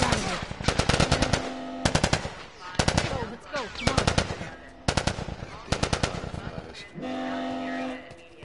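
Bursts of rapid automatic gunfire in The Last of Us Remastered, loud repeated volleys separated by short pauses, with a train-like rumble and steady tone underneath near the end.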